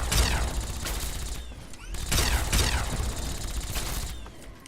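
Turret gunfire in Fallout 3, two loud bursts of rapid mechanical firing with rattling, clattering impacts, separated by a short pause.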